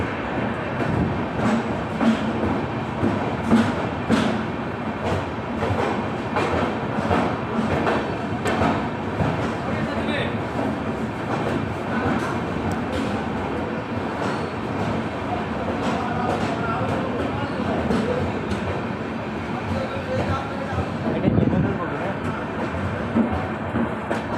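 A train runs steadily with continuous rumbling and rattling while riding inside a general-class passenger coach near Siliguri, with a busy, noisy cabin atmosphere and faint voices mixed into the constant clatter.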